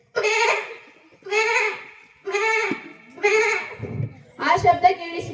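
A voice imitates goats bleating in an open field: five loud, quavering bleats in a row, close and separated by short pauses, the last one rougher and more broken.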